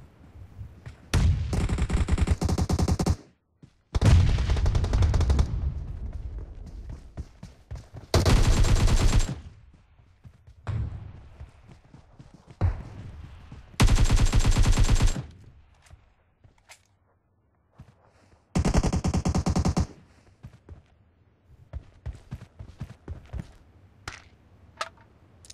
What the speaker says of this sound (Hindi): आपको तंग कर रहा बार बार गोलियां चला रहा है